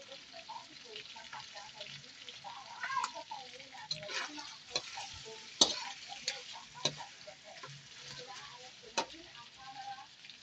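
Sweet cured pork tocino sizzling and frying in a pan, with steady crackle and occasional sharp pops and scrapes of stirring, close and moderately loud, no talk.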